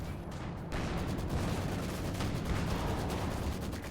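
Cannon fire and battle noise from a T-34 medium tank in a World War II tank game, a dense, steady roar of shots and explosions running throughout with no clear single blast standing out.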